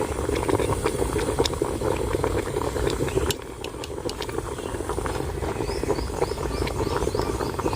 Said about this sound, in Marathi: आम्ही पातेल्यामध्ये बटाटे उकडायला टाकलेले आहे